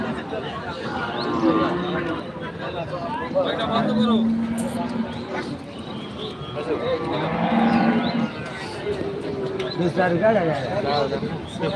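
Cattle at an outdoor cattle market in Chaubaria, low drawn-out moos rising a few times amid the crowd, mixed under steady nearby talking and general market hubbub.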